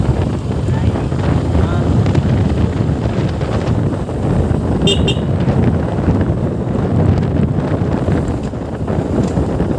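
Cold wind buffets the microphone while riding an NS125 motorcycle, a loud, constant roaring rumble that fills the whole stretch with engine noise buried underneath.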